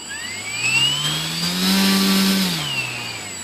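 The electric motor of an E-flite Conscendo S RC plane spins its repaired folding propeller. A loud, steady whine rises in pitch, holds briefly at full throttle, then winds down, heard close and alone.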